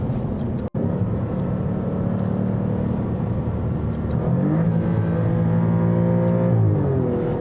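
A 2021 Alfa Romeo Giulia engine accelerates inside a tunnel, a loud continuous drone that rises in pitch as revs climb, echoing off the walls, with a brief gap near the start and no talking.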